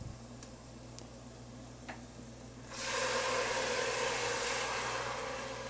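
Dry white wine poured into a hot Dutch oven while making Cajun cassoulet bursts into a loud, steady broadband sizzle partway through, after a quiet stretch of faint kitchen hum and a few light ticks.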